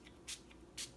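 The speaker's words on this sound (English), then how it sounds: "I'm just going to go ahead and kind of spray this whole tag" Two short bursts of Dilutions Mica Spray misted onto a paper tag, each a quick hiss about half a second apart, close and fairly quiet.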